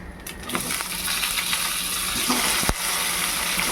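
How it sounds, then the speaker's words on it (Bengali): Diced potatoes go into hot oil in a pan already holding dried red chillies, bay leaf, cumin and whole garam masala. A steady, bright sizzle runs throughout, with one sharp clink near the end. "এর মধ্যে এবার দিয়ে দেবো এই ডুমো করা আলুগুলো"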